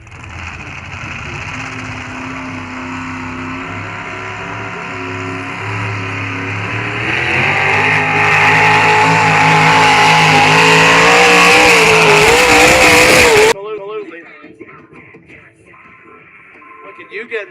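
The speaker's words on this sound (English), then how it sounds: "This thing sings 557 cubic inch big block Chevy injected on alcohol." A 557 cubic inch big block Chevy race car injected on alcohol roars loudly, engine pitch climbing as it revs harder, then cuts off abruptly, leaving faint crowd noise and talk.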